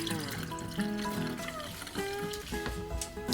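Hot water runs from a tap into a sink to rinse hands, a continuous splashing and trickling stream with shifting tones as the flow is interrupted, with some speech underneath.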